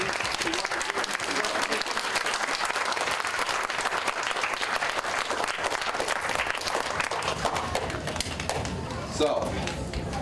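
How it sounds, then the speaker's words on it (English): An audience at a community summer reading and exercise challenge event gives a loud, sustained round of applause, dense clapping that continues throughout before thinning slightly near the end. "Can we have a round of applause for all the great people in our community?"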